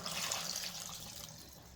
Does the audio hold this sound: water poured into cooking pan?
yes